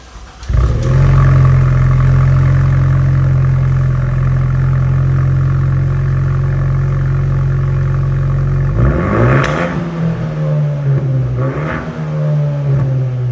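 A 2026 Ford Mustang RTR with quad tipped exhaust idles with a deep, loud, steady rumble close by, then revs briefly twice before settling back into a lumpy burble.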